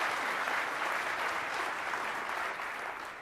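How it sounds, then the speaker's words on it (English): An audience at a technical talk on programming languages claps steadily for about three seconds, a dense, even wash of applause that fades slightly at the end. "We should give Justin some applause first, though."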